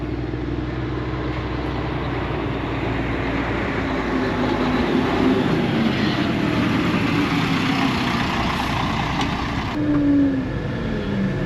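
Farm truck with a feed wagon driving through heavy snow, a continuous loud engine drone with rumbling, grinding running noise and a slowly shifting pitch, close and steady throughout.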